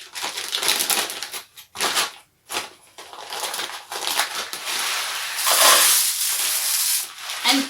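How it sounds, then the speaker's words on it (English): Dry rice pours through a funnel into a paper tube, making a steady, close granular hiss and rattle that surges and thins in uneven bursts, with brief gaps and a thicker, louder rush near the end. "if you want to pour your rice in"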